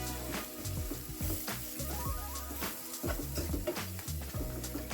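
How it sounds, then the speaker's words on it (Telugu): Masala with chili powder and coriander powder fries in a pan, a close, steady sizzle broken by stirring scrapes and clinks, with no speech. "1 టీ స్పూన్ కారం, 1/2 టీ స్పూన్ ధనియాల పొడి యాడ్ చేసుకున్నాక బాగా ఫ్రై చేయాలి."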